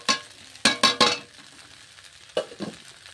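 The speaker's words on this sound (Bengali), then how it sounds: "এবার আমি কাজু কিশমিশ আর পেস্তাগুলো দিয়ে দেবো" Cashews, raisins and pistachios tumble into a frying pan of flattened-rice pulao with a few quick clattering hits. After a pause, a spatula scrapes and stirs them through the softly sizzling mixture, up close and without speech.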